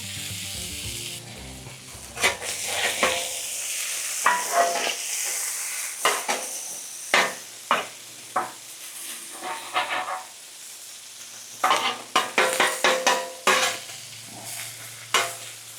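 Sausage, peppers and onions frying on a griddle under a dome, with a steady loud sizzle and hiss broken by repeated scraping and stirring clacks of a spatula, no voices.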